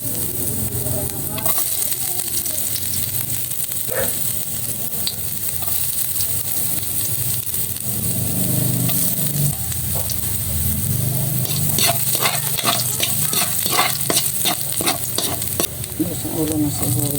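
Garlic sizzles steadily in hot oil in a pan for a macaroni dish, a constant frying hiss with utensil scrapes and clicks growing busier toward the end, with no voices.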